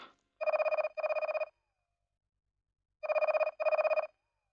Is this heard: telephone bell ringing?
yes